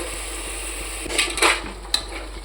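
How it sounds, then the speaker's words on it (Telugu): Spoon stirring yogurt into chicken in a pot while preparing chicken biryani, with a few soft clinks and scrapes against the metal pot, close and fairly faint, the strongest knocks coming midway. "పెరుగు వేసేసాక కాసేపు ఇలా కలుపుకోవాలి."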